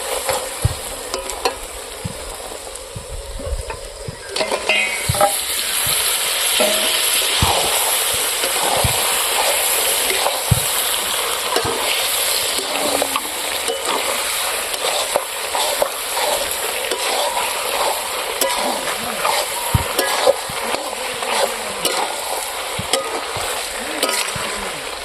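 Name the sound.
pork meat frying and stirring in spiced oil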